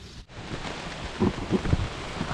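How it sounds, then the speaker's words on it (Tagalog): Dense, steady rain pours down with a constant broadband hiss, mixed with gusty wind and faint low rumbling. "lumakas na ang ulan"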